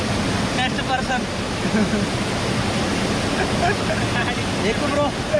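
Bahubali waterfall at Badigunta near Akuru, Rampachodavaram, pours in a steady, dense rushing roar that fills the whole clip without a break, with faint voices now and then beneath the water.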